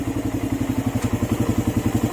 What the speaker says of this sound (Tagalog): tahimik na yung makina nyo